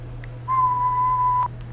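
A person whistles a single steady, pure tone into a microphone for about a second, loud and close over a constant low electrical hum.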